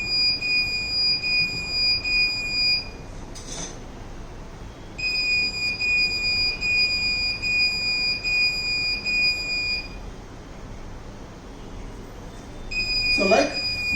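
A motion sensor alarm buzzer sounds a steady electronic tone in long stretches with brief gaps, alongside faint background noise and a short rustle near the end.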